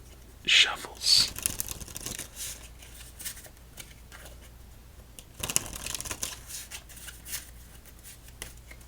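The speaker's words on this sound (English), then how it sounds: "Let's give it 2 more shuffles." Deck of playing cards shuffled during a game of solitaire: two bursts of riffle shuffling with soft card rustles between, close and quiet, with some whispering.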